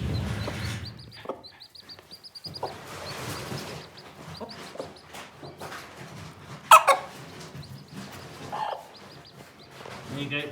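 A broody mother hen, sitting on her eggs while her chicks hatch, gives soft, intermittent clucks at close range, with quiet human talk and handling noises around her.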